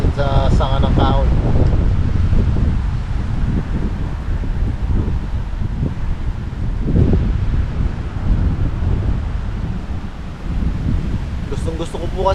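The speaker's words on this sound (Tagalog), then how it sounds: "takas na lang ang hangin" Wind buffets a camera resting on a tree branch outdoors, giving a loud, continuous low rumble of microphone noise with rustling throughout, and a voice speaks briefly at the start and end.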